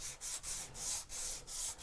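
Steady back-and-forth sanding scrapes across painted wood, rhythmic hissing strokes repeating about every third of a second, close and fairly quiet.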